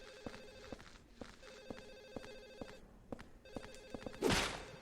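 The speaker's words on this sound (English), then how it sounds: "That phone is so annoying." An in-game telephone rings insistently in Silent Hill 4: The Room, a repeating electronic bell pattern in bursts, with a sharp louder noise near the end.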